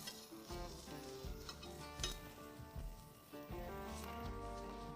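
Onions sizzle and fry steadily on a burger grill, with scraping and clinks of a spatula as they are flipped, continuous and close.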